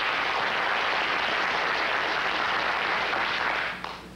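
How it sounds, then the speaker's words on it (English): Studio audience of a late-night television talk show breaks into sustained, loud applause for presidential candidate John Anderson in 1980, a dense, even wash of clapping that holds steady before tapering off near the end. "Just applaud."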